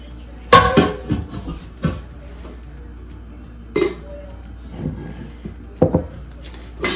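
Glass jars clink and knock sharply as they are loaded for homemade beef bone broth, a few separate close clatters spaced across a quiet kitchen.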